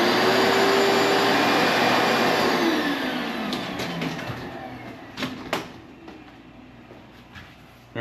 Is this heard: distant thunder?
no